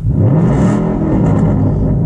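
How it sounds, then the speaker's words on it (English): A car engine revs in a short, loud burst with a throaty low rumble that holds steady throughout, close by with no talking over it. "Hold on, I'll give you a little rev."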